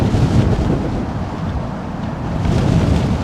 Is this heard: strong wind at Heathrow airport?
yes